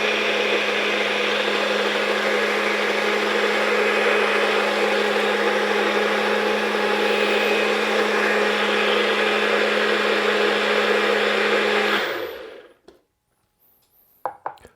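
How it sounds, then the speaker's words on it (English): A blender whirs at full speed through peanut sauce with ginger and garlic, a loud, steady motor drone with a constant hum that runs for about twelve seconds, then cuts off and spins down, leaving a few faint clicks. "Let's blend it one more time."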